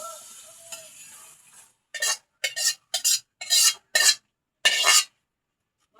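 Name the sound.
stirring and sautéing in a pan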